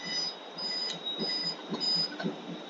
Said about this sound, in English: Oh, it's the alarm.